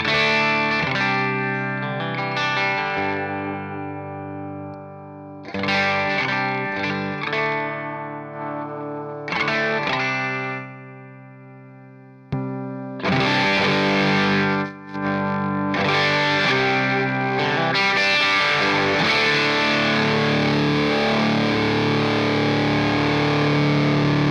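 Electric guitar through a Ramble FX Twin Bender fuzz pedal plays sustained, buzzing chords and notes in phrases with short gaps, loud and thick, with no voice.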